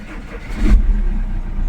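An Audi Q5 engine starts after a key is programmed: a short cranking burst catches into a loud, close rumble that settles into a steady idle.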